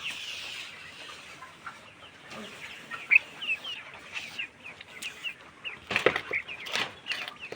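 Farm chickens recovering from fowl pox cluck in short, scattered calls, with a few louder squawks near the end, fairly close over a quiet background.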